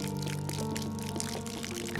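Water poured out in the video game DayZ, a steady continuous gush lasting about two seconds, loud and close over a humming background.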